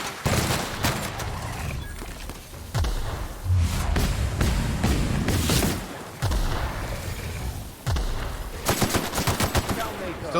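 Gunfire from The Outer Worlds on Supernova difficulty, aimed at Raptidons: loud repeated shots and bursts with thumping impacts fill the whole stretch, dense and close, with game effects layered throughout.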